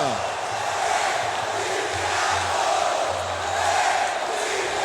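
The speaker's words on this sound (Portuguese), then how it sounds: "Vibra a torcida Cruz Maltina" Vasco da Gama supporters at the Engenhão stadium roar after a 3–2 Taça Rio win over Flamengo. A dense, sustained crowd noise swells and dips, with a low chant-like drone underneath.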